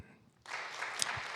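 Church congregation at a Korean young-adult Friday worship service breaks into broad applause that starts abruptly and fills the room, a dense wash of many hands clapping at moderate distance.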